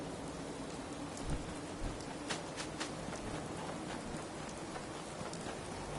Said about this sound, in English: Oh my, it's raining again.